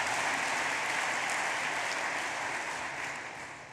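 Steady, dense applause from a party conference audience greeting a speaker, a continuous wash of many hands that stays loud before easing off toward the end.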